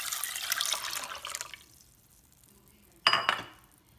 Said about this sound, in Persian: حالا بهش آب اضافه میکنم.